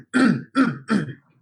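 Three quick, close throat clears in a row from one person, each a short rough burst with brief gaps between, then quiet.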